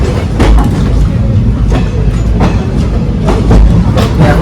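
Interior of a moving Indian passenger train, a loud continuous rumble with rhythmic clickety-clack of wheels on rail joints and occasional rattles, steady throughout with no talk.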